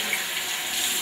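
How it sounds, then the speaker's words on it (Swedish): Tap water runs steadily from a faucet into a sink, drawn to rinse the mouth after tooth brushing, a continuous close hiss with no talk. "Så nu tar jag vatten för att skölja."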